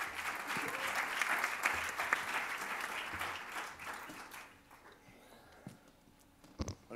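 An audience at a music-startup pitch event applauds as the CEO of a vinyl company is welcomed on stage, steady crowd clapping that swells for a few seconds then thins out and fades to scattered claps.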